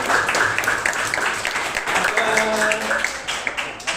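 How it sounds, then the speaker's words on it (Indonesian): A classroom of students applauds together in a dense, steady wash of clapping lasting a few seconds, with a voice briefly audible underneath. "Bisa duduk, tepuk tangan."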